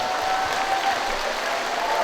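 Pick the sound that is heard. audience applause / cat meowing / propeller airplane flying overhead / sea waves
audience applause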